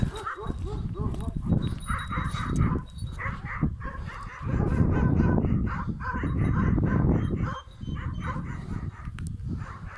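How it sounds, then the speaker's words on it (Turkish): Several village dogs bark and yip close by, with puppies whimpering and yelping in between, while people talk in Turkish over the noisy, overlapping chorus. "Köpekler, yavrular Karabaş! Karabaş!"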